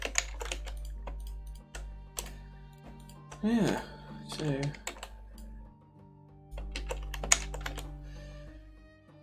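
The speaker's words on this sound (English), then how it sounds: "It's very keyboard heavy, as you can tell" Rapid computer-keyboard typing during a livestream of game animation work: light clicking taps in uneven bursts, with someone talking in between and over the keys.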